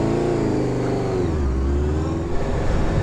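A Honda CBR600F sports bike engine on the road near Swindon, a steady mid-pitched drone that dips and rises slightly as it runs, with wind and road noise throughout.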